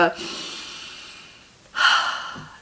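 Two breathy bursts of imitated panting, one at the start and a louder, sharper one near the end, separated by a quiet, hissy pause.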